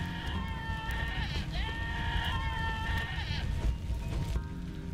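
Sheep in the video game Albert & Otto bleat in repeated wavering cries over a dense, constant game soundtrack, loud and up close.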